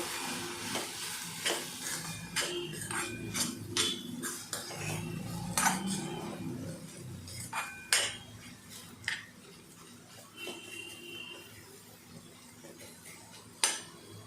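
Bitter gourd pieces dressed with lemon juice are stirred and tossed in a pan, with repeated scraping and clinking of a utensil against the pan over a soft background sizzle, with no talking.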